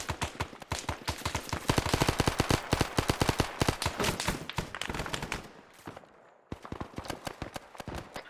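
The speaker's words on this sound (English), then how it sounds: "Just head over to the machine gun." Rapid machine gun fire in a first-person shooter match at a checkpoint, loud and close: long rattling bursts of tightly spaced shots, a brief pause near the end, then another burst.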